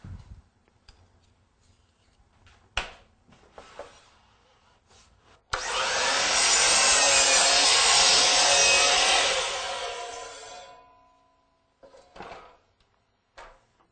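A DeWalt DW718 miter saw cutting crown molding: quiet shop handling and a few clicks, then a loud, close whine of the blade biting through the wood for about five seconds before it spins down, followed by more clicks.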